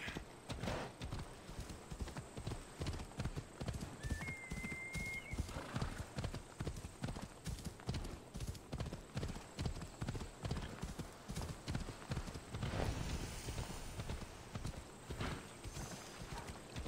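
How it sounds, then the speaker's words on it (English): Steady clip-clop of horse hooves throughout, with a brief whinny partway in, over a game-like ambient background in Assassin's Creed Odyssey. "What's up, horse? Come here."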